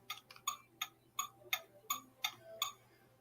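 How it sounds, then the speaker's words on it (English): A sharp, regular ticking like a toy phone's clock sound, about three ticks per second, clicking evenly and fairly close, with a faint hum underneath. "It's a watch. It's a clock."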